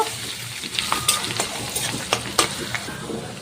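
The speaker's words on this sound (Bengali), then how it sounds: "সব কিছু ভালো করে একটু ভেজে নেব।" Rice and grated ginger sizzle and fry in a pan with a steady crackle, punctuated by a few clicks and scrapes of stirring, close and alone.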